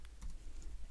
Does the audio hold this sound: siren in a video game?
no